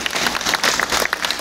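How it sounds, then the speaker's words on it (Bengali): A small audience claps briefly, with quick, dense applause close by and fairly loud, without cheering. "তো অ্যাপ্রেসের জন্য একবার হাততালি হবে না?"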